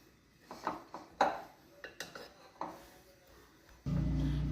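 Groundnut salad ingredients being mixed in a bowl, a series of soft knocks and scrapes of a spoon against the bowl, close and quiet, ending with a louder steady rustle, no talk.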